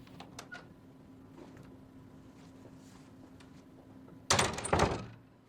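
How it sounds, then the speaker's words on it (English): A door as someone walks out of a room: after a quiet stretch of faint room tone and small knocks, a loud burst of rattling and banging comes near the end, then fades. "he walked out the door"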